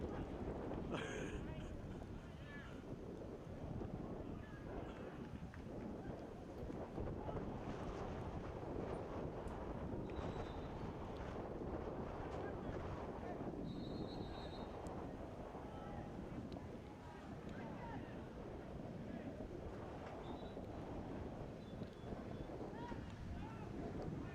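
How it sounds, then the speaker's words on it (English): Wind blows steadily across an outdoor soccer field during a youth showcase match in Lakewood Ranch, producing continuous low buffeting rumble on the microphone with faint talk underneath. "Wind picking up in Lakewood Ranch."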